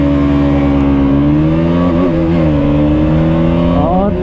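KTM Duke 200 and Bajaj NS200 motorcycles, one carrying a pillion, accelerating side by side in a drag race; a loud, steady engine drone rises and shifts through the gears close to the rider.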